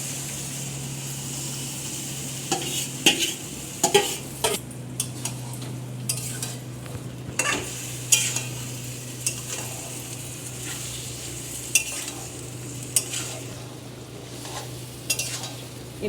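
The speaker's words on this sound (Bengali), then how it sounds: "মেখে রাখা মাংসটা ঢেলে দেবো" Marinated mutton sizzles in a pan with fried onion and melted tomato, a constant hiss broken by repeated clacks and scrapes of a spoon stirring at an uneven pace, close and clear.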